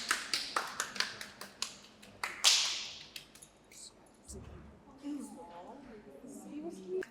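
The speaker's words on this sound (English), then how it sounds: "can we give him a round of applause?" Studio audience at a UK dating show gives a round of applause, a quick rhythmic series of sharp, close claps that then fades as voices and talk take over.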